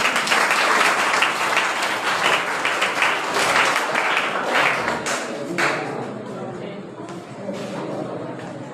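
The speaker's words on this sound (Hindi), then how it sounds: "ताली मारो।" An audience claps loudly for a student called back onto a stage at a school prize event, a dense burst of applause that thins slightly toward the end, with voices mixed in.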